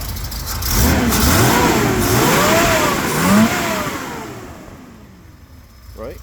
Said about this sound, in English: it revs up and does what it's supposed to do at high RPMs